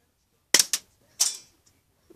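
BB gun firing, two sharp cracks close to the recorder followed by a second pair of short snaps, a faint click trailing after, no voices.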